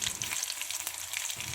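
A tempering of mustard seeds, fenugreek, dried red chilies and cumin crackles in hot oil. The fizzing sizzle is close and continuous, broken by a few sharp pops.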